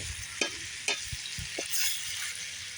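Bacon frying in a pan over a cooking fire gives off a constant bright sizzle and crackle, punctuated by a few sharp knocks and scrapes as it is moved around. No one speaks.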